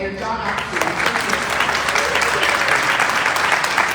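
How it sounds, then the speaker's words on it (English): Dense, sustained applause from the audience at an all-candidates meeting for Burlington North-Milton West, a steady roar of many hands clapping at close range for the moderator. "a huge round of applause for our all-star moderator, John Oxley"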